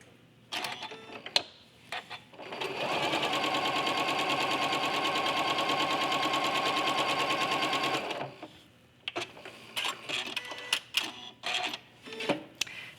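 A sewing machine piecing quilt blocks at a 2.2 stitch length runs steadily for about five seconds with a dense, even mechanical whir, framed by sharper clicks and handling sounds before and after.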